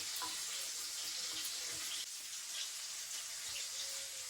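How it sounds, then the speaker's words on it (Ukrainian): Tap water runs steadily into a sink while potatoes are washed by hand, a continuous broadband splashing hiss with small shifts in flow and no voices. "Зараз ще раз її хорошо помию"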